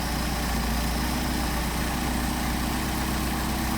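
A car engine idles steadily and loudly while the idle mixture screw on a Solex 44PHH carburetor is adjusted, with a constant low rumble and vibration and no talk.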